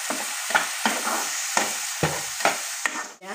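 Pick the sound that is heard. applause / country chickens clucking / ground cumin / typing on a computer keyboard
ground cumin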